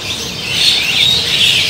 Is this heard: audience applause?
no